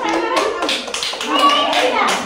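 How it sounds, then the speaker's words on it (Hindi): Children clap their hands in quick, uneven bursts during a classroom activity, loud and close, with children's voices mixed into the clapping. "ताली मारो"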